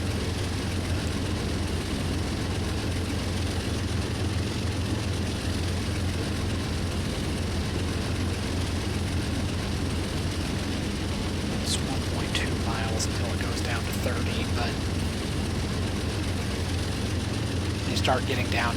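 Steady, droning diesel locomotive engine in a train-driving game on a run through Pennsylvania toward Altoona, a constant low rumble throughout with faint higher clanks and squeals near the end, heard under the engine noise.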